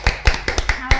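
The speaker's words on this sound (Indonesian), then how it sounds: "Ayo tepuk tangan dulu." A few sharp hand claps in a classroom interview setting at a state high school in Kupang, six distinct, fairly loud slaps spaced irregularly over about a second, with no talk.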